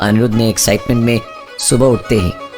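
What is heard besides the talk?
No distinct noise like a dog, phone or traffic.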